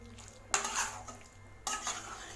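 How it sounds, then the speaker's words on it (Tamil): Chicken masala stirred and sautéed in a pan over low flame: two bursts of spoon scraping and clatter against the pan, with faint sizzling underneath, no voices. "மிக்ஸ் பண்ணி வதக்கி விடுங்க"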